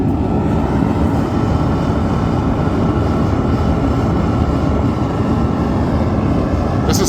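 Sunfire diesel heater running inside an insulated garage, giving a loud, steady roaring hum with no pauses, close and unbroken for the whole stretch, with no talking over it.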